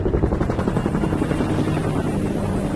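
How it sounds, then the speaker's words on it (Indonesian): A helicopter's rotor thumps in a fast, steady rhythm, loud and close, a continuous chopping drone. "tiba-tiba 2 helikopter FBI datang untuk menangkap Swagger"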